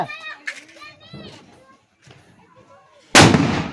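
A Diwali firecracker bursts in a village with a single loud, sharp bang near the end. Before it, children talk and call out nearby.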